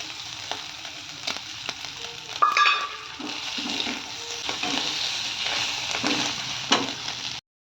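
Egg dropped into oil with cooked-down spices sizzles steadily in a pan, a bright continuous fry with stirring scrapes and a sharper burst as the egg hits, no voices.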